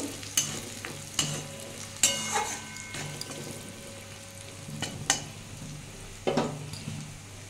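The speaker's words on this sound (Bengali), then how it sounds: "এটা দিয়ে একটু ভেজে নেব" Green chilies, cut medium-fine, sizzling in hot oil in a pan, with a steady frying hiss and several sharp stirring clatters of a spatula spaced through the clip, no voices.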